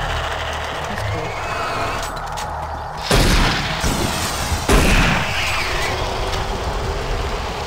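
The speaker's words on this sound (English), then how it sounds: "Oh, I can shoot you with this friendly fire." Gunfire in Doom 3 BFG Edition, with two loud broadband blasts a couple of seconds apart rising over a steady rumbling game background.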